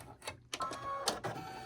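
An embroidery machine stitching through a dense patch of design, giving a rapid mechanical whirring run of needle strikes with short pauses and restarts, close and moderately loud, with no voices.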